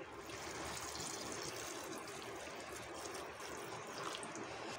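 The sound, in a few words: water poured onto chickpeas for cooking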